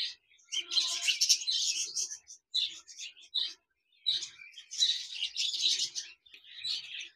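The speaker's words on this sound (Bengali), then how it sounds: "এখানে দেখতে পাচ্ছেন একজোড়া ডায়মন্ড ঘুঘু পাখি রয়েছে" A pair of diamond doves and budgerigars give bursts of high, chattering chirps close by, separated by short silences. No one speaks over them.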